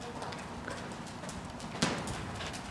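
Hooves of a draft cross horse trotting over poles outdoors in the rain, a soft steady beat under constant rain noise with one sharper knock near the end.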